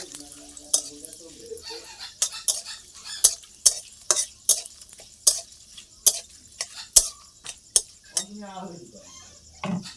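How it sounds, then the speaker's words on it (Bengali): Boiled bamboo shoots are stirred in a wok, with a spatula scraping and clinking against the metal in a quick, irregular rhythm over a soft sizzle. "সিদ্ধ করে বাঁশের করুন দিয়ে দেবো কড়াইতে"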